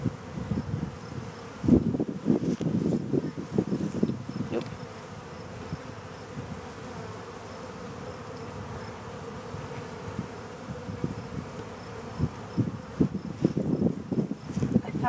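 Honey bees drone steadily at a hive during an inspection, a dense close buzz that holds throughout with louder swells near the start and end, with some wind rumble against the microphone.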